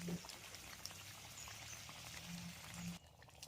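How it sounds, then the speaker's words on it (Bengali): A little water is poured into chicken curry with potatoes, making a soft, steady trickle and splash that stops abruptly after about three seconds, quiet against light kitchen background noise. "বেশি কিন্তু জল দেবো না কারণ মাংস আলু সমস্ত কিছুই কিন্তু সেদ্ধ হয়ে গেছে তাই বেশি জল দেওয়ার দরকার নেই অল্প করেই জলটা দেব"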